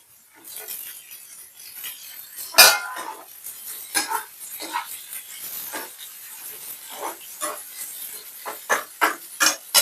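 Tomatoes tipped into a cooking pot in a home kitchen, giving a run of light clattering and scraping knocks against the pot, one sharper clank early on, then steady irregular taps and scrapes, close and fairly soft with no talking.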